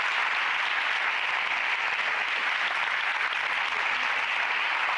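Steady, dense applause from an audience at a mental health discussion event, a continuous even roar of many hands clapping at moderate loudness with no pauses.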